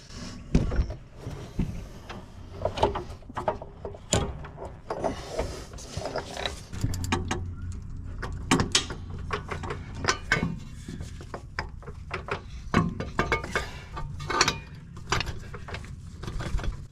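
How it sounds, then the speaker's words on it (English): On a 2010 Mazda 6 3.7L FWD, a new driver-side CV axle is worked into place with a string of close metallic clunks, scrapes and knocks, irregular and continuous throughout. "now we can maneuver our new CV axle into place"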